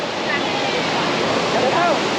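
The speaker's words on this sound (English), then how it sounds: "going over to this bridge and seeing how the water funnels through" Water rushing loudly at Datanla waterfall in Dalat, Vietnam, a constant close roar of falling water with a few faint high whistles or birdlike chirps over it.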